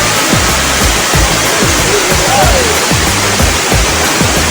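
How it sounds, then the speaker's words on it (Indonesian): Steady roar of the Benang Kelambu waterfall in Lombok, Indonesia, loud and close, broadband rushing water filling the whole clip with low thumping pulses underneath. "sekarang saya telah berada di air terjun Curug Kelambu ya, air terjun Benang Kelambu"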